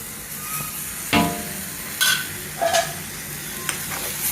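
Washed prawns go into a simmering onion-tomato gravy over low heat, giving a steady low sizzle broken by a few sharp scraping stirs.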